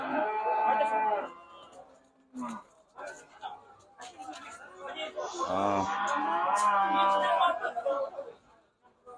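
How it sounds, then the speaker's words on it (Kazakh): A black cow's calf at a livestock market in Kyzylorda gives a drawn-out moo partway through, among nearby voices chatting on and off. "Мынау жаңа қара сиырдың бұзауы ғой"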